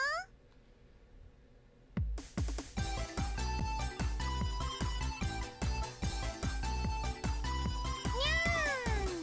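A cat-girl character in the LoveKami video game meows over bright, bouncy game music with a rhythmic beat, and the music kicks in loudly after a quiet opening.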